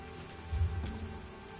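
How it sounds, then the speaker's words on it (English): Steady rain pours during a storm in a video game, a dense, even hiss of falling drops with a brief swell partway through and no talking. "I could do without this damnable rain. It's been storming since we arrived,"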